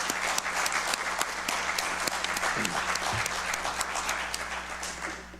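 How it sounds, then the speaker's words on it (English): Audience applause at a school district candidate forum fills the room, a steady, dense wash of many hands clapping throughout, with a faint low hum beneath. "How about a round of applause for our candidates?"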